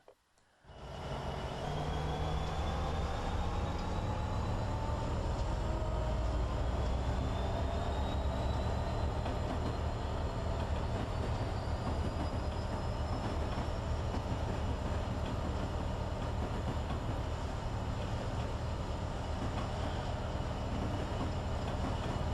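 A train in a video game rumbles past steadily, a loud continuous low roar with faint rising whines above it, no talking.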